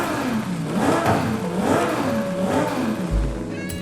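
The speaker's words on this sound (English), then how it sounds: "Definitely gonna get the race exhaust for sure. Sounds way better." A 1200 HP twin-turbo Lamborghini Huracan STO revs in Forza Horizon 5. The engine note rises and falls in repeated loud surges with a whirring turbo tone, and no voices are heard.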